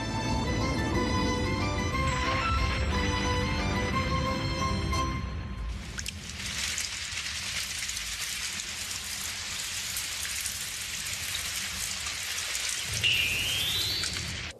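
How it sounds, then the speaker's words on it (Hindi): Rain falls steadily in a broad hiss after a musical passage fades, with a brief swooping whistle near the end. "जब बादल बहुत ज्यादा ठंडे हो जाते हैं तो बारिश होने लगती है"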